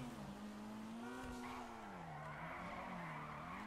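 A car drifting in GTA 5 gives a sustained, wavering tire squeal over a steady engine drone, close and continuous, with the pitch bending up and down as the slide changes.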